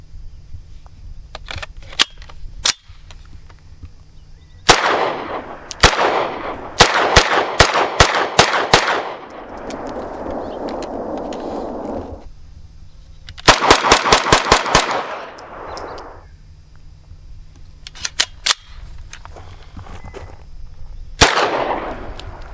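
Sharp gunshots from a CZ Scorpion Micro EVO 3 S2 fitted with a red dot sight, fired outdoors at a range in fast strings and single shots, loud and close, with echoing tails between bursts.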